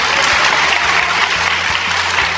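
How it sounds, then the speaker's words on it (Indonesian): Enthusiastic applause from an audience at a church sermon, a loud, dense burst of many hands clapping together for a couple of seconds with a faint tonal hum beneath. "Tepuk tangan dong, mana yang bagian sponsor tepuk tangan tadi tuh?"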